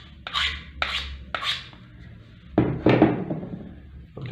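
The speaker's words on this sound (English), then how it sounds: "If you use this rotary type peeler, you will get the peeling in this shape." Rotary peeler scraping the surface of a plastic pipe before welding: three short, bright rasping strokes, then a longer, heavier scrape with a second burst, close and clear, with no voices.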